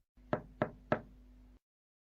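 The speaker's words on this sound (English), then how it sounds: "she knocked on the door." Three sharp knocks land on a wooden cottage door in an even, quick rhythm, close and clear against a faint low hum, then silence.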